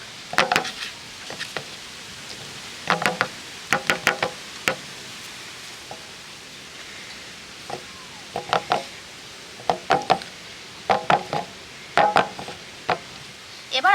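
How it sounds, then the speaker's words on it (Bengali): A metal plate spread with ripe mango pulp for aamsatta is shaken and knocked against a surface, giving clustered bursts of sharp rattling taps separated by short pauses, close and fairly loud with no talking. "এবার ভালো করে এইভাবে থালাটাকে নাড়িয়ে চারিদিকে সমান করে দেবো"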